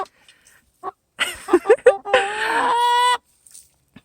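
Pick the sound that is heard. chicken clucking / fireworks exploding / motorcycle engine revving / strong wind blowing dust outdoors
chicken clucking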